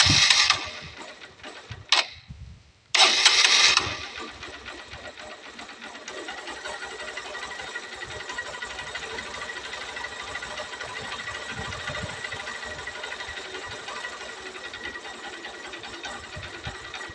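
A motorcycle engine idles after its accelerator has been adjusted, a steady, fast mechanical chatter that runs on evenly after a few brief louder bursts at the start, close and loud with no speech.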